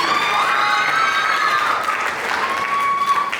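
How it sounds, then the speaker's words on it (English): A pageant audience applauds and cheers as a winner is crowned, sustained crowd clapping with some shouts, while music with a clear sustained tone plays over it. "Let's give a big round of applause to Navy Guthrie"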